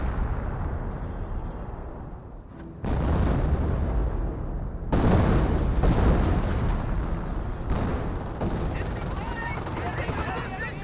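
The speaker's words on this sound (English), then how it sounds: "And now we have another creepy barrage being called on in" Artillery barrage rumbling through the video game Company of Heroes, dense low booms and blasts rolling on continuously and loud, with bursts swelling around three and five seconds, under a voice talking throughout.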